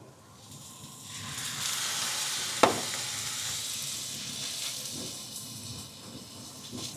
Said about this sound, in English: I'll let it fry just a little bit more for the garlic to fry a little bit.